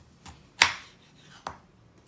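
A knife cuts through star fruit (carambola) on a board, three separate chops with one hard, crisp strike in the middle and two lighter taps, in an otherwise quiet room.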